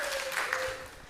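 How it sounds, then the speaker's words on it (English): Church congregation applauding during a Sunday morning service, a steady wash of clapping that fills the whole short moment with no gaps. "you're just wanting to clap today"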